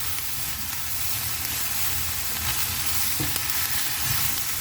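Fermented fish chili paste, nam prik pla ra, sizzles steadily in a pan as it is stirred slowly, a constant close frying hiss with soft scraping, no talking.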